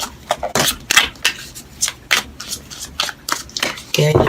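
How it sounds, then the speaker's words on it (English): A deck of tarot cards is shuffled repeatedly by hand, giving a run of quick crisp riffling bursts close to the listener, with brief pauses between them and no talk. "I'm going to shuffle 2 more times"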